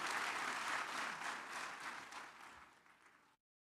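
Audience applause at a graduation ceremony for a Kenyan security and criminal justice institute, a full burst of many hands clapping that gradually thins and stops abruptly.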